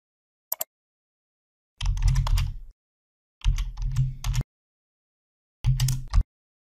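Company name being typed on a computer keyboard for a spreadsheet header, three short close bursts of rapid key clicks separated by pauses, with one brief tap before them.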